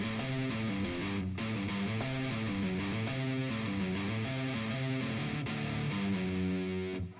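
A software guitar plugin played from a keyboard sounds a distorted, chorused guitar line with sustained chords and shifting notes, steady and fairly quiet, with no voices.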